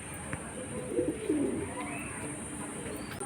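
Pigeons kept by a fancier coo softly in a short, low burst near the loft, set against a constant background hiss with faint chirps.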